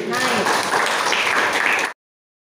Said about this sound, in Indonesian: Good, tepuk tangan sekali lagi.